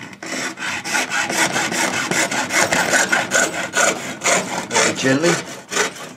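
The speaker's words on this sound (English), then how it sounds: "So it's just hacksaw," A hacksaw cuts off motorcycle indicator mounts with steady, rhythmic back-and-forth strokes of rasping metal, loud and close, while someone briefly speaks.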